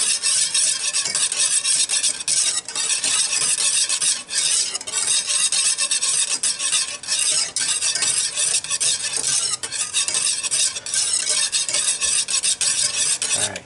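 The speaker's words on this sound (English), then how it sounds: "So now you want to be in here and you want to be in here stirring." Steady, continuous stirring and scraping of a sugar-free keto glaze in a pan over heat, with a faint sizzle beneath, close and loud throughout with no talk.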